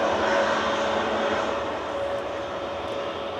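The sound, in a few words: EasyJet airliner taxiing away at Manchester Airport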